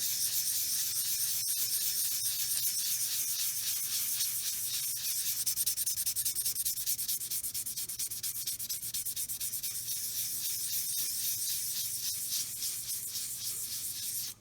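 A soapstone carving is sanded by hand in circular motions to remove deep scratches and nicks, producing a steady, close, raspy scrubbing that continues without a break and carries no voice.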